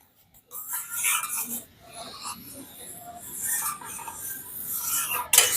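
A thick powdered-milk cream is stirred in a wok, making steady rasping scrapes that build into a continuous, moderately loud scraping with a sharp clack near the end.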